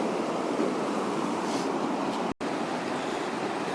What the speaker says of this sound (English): This is the Red Creek that you're seeing.